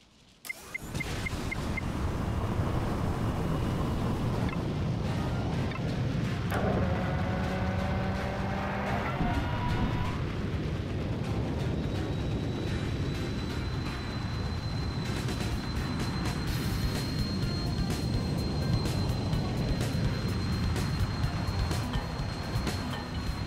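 A small ultralight plane in Ultrawings 2 throttling up for takeoff, a loud steady engine drone with a rising whine and a brief tonal chime partway through, continuous throughout.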